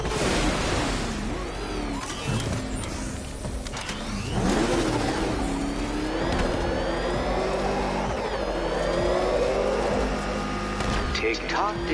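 The Batmobile in Batman Arkham Knight revs and accelerates with a loud, droning engine note that surges and climbs, and a short voice line briefly cuts in over it.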